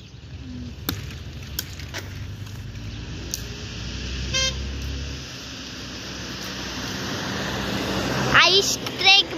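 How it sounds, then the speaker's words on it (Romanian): Cars pass along a road near a forest where trees are being felled, a continuous traffic drone swelling as one vehicle nears loudly at the end, with brief horn toots and people talking over it. "Aici trec mașini îngrozitori"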